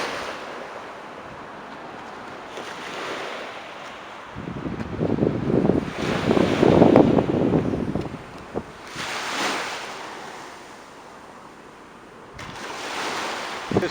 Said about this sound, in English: I just love the water. Waves lapping in.